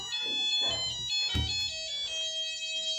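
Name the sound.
whistle of empty automatic flour mill (chakki) machine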